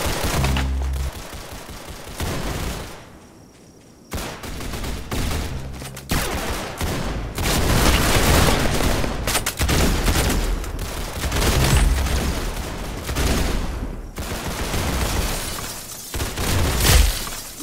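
Gunfire in the online shooter Roblox Arsenal: rapid bursts of automatic and single shots, loud and close, coming in clusters separated by brief lulls, with what sounds like glass shattering now and then.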